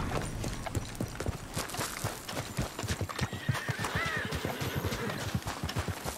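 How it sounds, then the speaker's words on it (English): Horses whinny and neigh over steady clip-clopping hooves in the video game Red Dead Redemption 2, rhythmic and fairly close, with no one speaking. "Those are horses."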